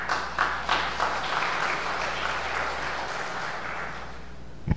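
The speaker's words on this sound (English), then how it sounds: "you guys owe yourselves a round of applause." A church congregation gives a worship-service round of applause, steady and fairly full-bodied for several seconds under a low hum, ending with a sharp knock.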